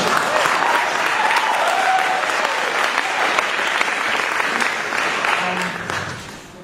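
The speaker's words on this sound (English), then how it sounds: "Thank you for the applause." An audience at a Javanese cultural performance applauds, loud and dense, holding steady for several seconds before tapering off.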